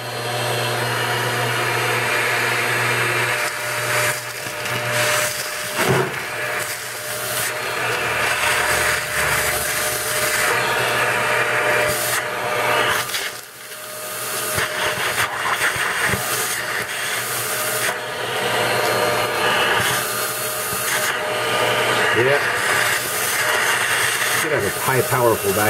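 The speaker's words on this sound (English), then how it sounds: "High powerful vacuum cleaner." A powerful vacuum cleaner roars continuously and loudly close by, with rattling and scraping of rust and debris being sucked up from a 1917 Buick engine, briefly dipping once midway.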